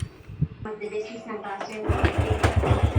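A motorcycle engine with a freshly cleaned carburetor kicks into life and runs in a fast, even putter after people talk over quiet sounds of work.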